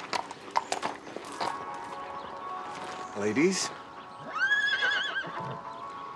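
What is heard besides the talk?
horses neighing and hooves clip-clopping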